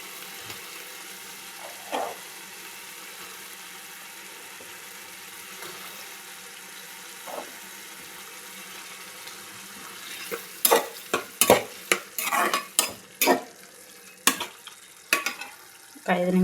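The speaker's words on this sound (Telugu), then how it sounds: "ఆలు వేసేసుకుందాం." Potatoes frying in a pan for aloo kurma, a quiet sizzle with occasional scrapes that turns into a rapid series of loud stirring clatters toward the end.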